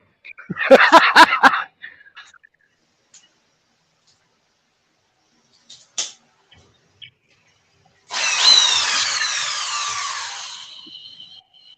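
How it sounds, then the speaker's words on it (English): A power drill runs briefly at home while someone removes a fitting. It gives a loud, whining burst of a few seconds with shifting pitch, after a short earlier burst of sound and some scattered faint knocks. "That's a drill."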